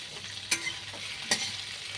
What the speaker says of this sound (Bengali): ডাঁটাগুলো আগে একটু বেগে নিচ্ছি